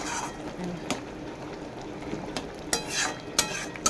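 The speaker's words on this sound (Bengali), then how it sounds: "চারিদিকটা ফুটে উঠেছে মাছটা কেমন টকবক করে" Boga fish cooking in mustard oil simmers in a pan as a thick, nearly dry curry, giving a soft steady bubbling with a few sharp utensil clinks against the pan, quiet and close.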